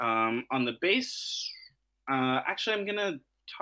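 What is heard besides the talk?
No distinct noise like a dog, phone or traffic.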